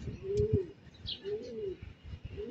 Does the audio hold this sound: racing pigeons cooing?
yes